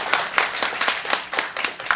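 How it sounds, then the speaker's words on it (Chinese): Audience applause at the second Flushing Poetry Festival in 2019, a steady patter of many hands clapping with individual claps standing out, fairly close and continuous through the moment. "参加过第一届的给点掌声我听一下"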